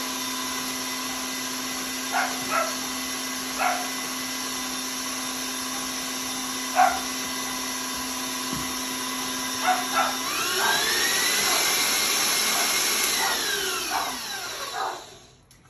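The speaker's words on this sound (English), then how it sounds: "I do apologize for my little puppy dogs barking in the background" A miniature dachshund puppy barks in short, scattered yaps in the background of a home kitchen, over a steady mechanical hum, before a louder whirring appliance-like drone rises near the end.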